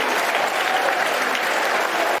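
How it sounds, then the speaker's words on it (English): A football crowd at a Millwall versus West Bromwich Albion match applauds a German player being substituted off, a dense, continuous wash of clapping from a large stadium audience, steady and fairly loud for the whole moment. "Good applause for the German."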